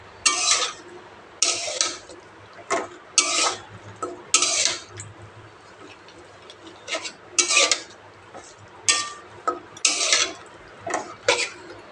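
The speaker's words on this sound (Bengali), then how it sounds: "আমি চামচ দিয়ে মাখিয়ে দিতেছি" A spoon scrapes and rasps through spiced beef in a pot, being mixed for a beef bhuna, in about a dozen separate bursts of stirring with short quiet gaps between them.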